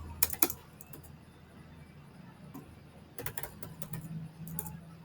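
Quiet computer keyboard typing in short scattered bursts of sharp clicks, with several key taps near the start, a dense cluster past the midpoint and more taps toward the end, over a low room hum.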